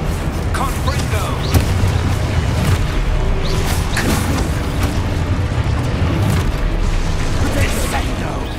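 A Confringo blasting spell explodes in the Hogwarts Legacy video game on PS5, with repeated heavy booms and crashes over a dense rumbling game soundscape.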